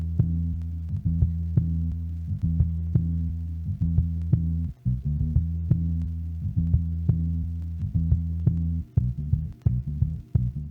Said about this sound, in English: So I'm going to go here to my sequence 3 where there's my filtered bass loop,